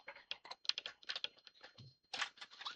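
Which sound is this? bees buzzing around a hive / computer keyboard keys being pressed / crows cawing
computer keyboard keys being pressed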